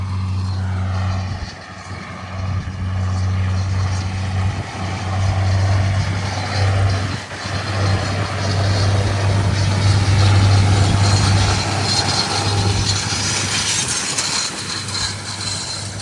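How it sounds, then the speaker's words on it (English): A John Deere 7810 tractor pulls a 15-metre Claydon straw rake across a field, its engine giving a steady, loud drone with a low hum for the whole stretch and no talking. "doing a little demonstration of the 15 metre straw rake"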